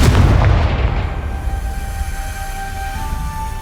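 A Confringo fire spell bursts with a single loud, close explosive boom in Hogwarts Legacy, followed by a rumbling decay that trails off over a few seconds.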